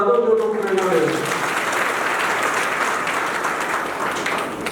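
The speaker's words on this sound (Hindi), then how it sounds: "अब इनके लिए तालियां तो बजा दो जो लोग प्रेरणा ले रहे हो।" An audience at a religious discourse gathering in Burhanpur claps steadily, a dense continuous applause that follows the tail of a voice and then holds at an even level.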